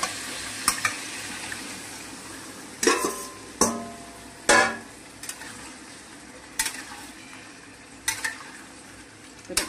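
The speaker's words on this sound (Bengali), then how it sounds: "এবার আমি ফুলকপিটা দিয়ে দিলাম" Cauliflower stir-fries in a pan with tomato and onion paste for veg biryani, a steady sizzle broken by repeated sharp scraping strokes of a spoon, loud and close, with no talk.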